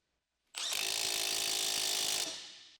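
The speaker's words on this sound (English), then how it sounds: "Use an 18mm long socket with an impact wrench to tighten the steering knuckle to lower control arm" An impact wrench with an 18mm long socket drives a steering knuckle to lower control arm bolt on a Ford Focus ST, one loud, steady, close burst of about two seconds, alone.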